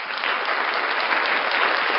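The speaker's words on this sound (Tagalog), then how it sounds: "Palakpakan natin yung negosyo." A crowd applauds at a business presentation for the Crowd1 compensation plan, a dense, steady wash of many hands clapping that holds loud and even for the full two seconds.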